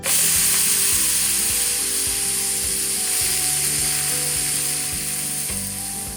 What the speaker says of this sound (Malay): Letakkan steak perlahan-lahan dalam kuali.